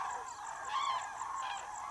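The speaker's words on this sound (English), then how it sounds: "On the way, you will probably encounter small groups of common cranes." Common cranes in a wintering ground on the Great Rann of Kutch give faint, distant honking calls. A few bugling notes rise over a soft, steady background, and no voices are heard.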